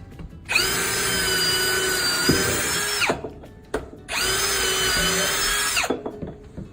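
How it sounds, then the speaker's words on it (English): A power drill runs loudly in two long, steady bursts of roughly two and a half seconds each, separated by a brief pause with clicks. "Andrew, I'm going to drill in here and let you catch it"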